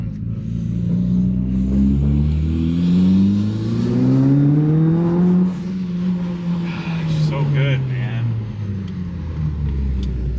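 A Mitsubishi Lancer Evolution IX engine revs up and settles with rising and falling pitch, loud and close, while someone speaks briefly over it.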